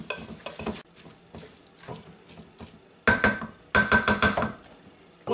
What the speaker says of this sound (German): Einmal umrühren.